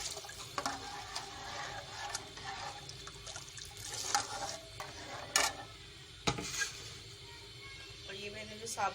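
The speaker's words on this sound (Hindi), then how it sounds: "ये मैं 1 गिलास पानी और डाल रही हूँ।" A glass of water is poured into simmering kadhi, a faint liquid splash and trickle with a few clinks and knocks from the pot.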